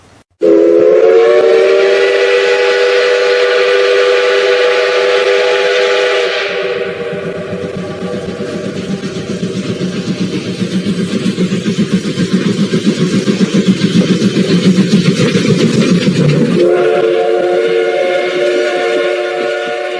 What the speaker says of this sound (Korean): 이 천국 복음 열차가 이 열차의 종착역인 천국을 향해서 힘차게 출발하겠습니다